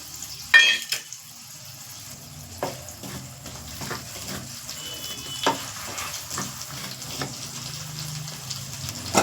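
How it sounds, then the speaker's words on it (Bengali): Cumin seeds and dried red chilies crackle in hot oil as a tempering for a fish curry, a steady close sizzle with an early sharp burst and scattered light pan and stirring knocks. "এই যে জিরে আর শুকনো লঙ্কা এটা ফোড়ন দিই"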